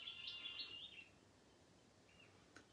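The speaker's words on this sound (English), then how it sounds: "All I can hear is lambs and birds." Birds singing in quiet countryside: a faint, brief run of high chirping and trilling notes at the start, then near silence with one more soft chirp toward the end.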